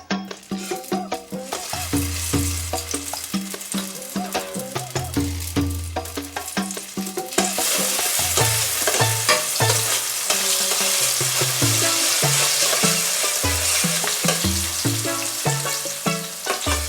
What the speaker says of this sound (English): It will take a couple moments for it to fry